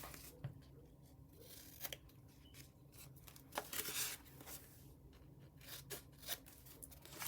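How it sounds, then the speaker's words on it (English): Scissors snip the corners off a jewelry display board, a handful of short crisp cuts with faint paper rustling and handling between them, close and fairly quiet. "Now, another thing is I cut this off. Cut the corners off."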